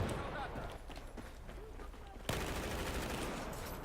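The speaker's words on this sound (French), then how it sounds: "Ça tire de derrière moi, non?" Gunfire and battle noise in the Battlefield 4 multiplayer game on PS4, a dense ongoing clatter of shots that gets louder after a sudden jump midway, with someone talking over it.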